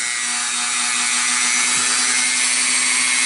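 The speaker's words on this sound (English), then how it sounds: "We're just going to start on the end like this, start sawing into the car body" A motorized rotary tool whines at high speed, loud and constant, as it saws into the plastic body of an HO scale B&O C27A caboose, a steady grinding buzz with no talk.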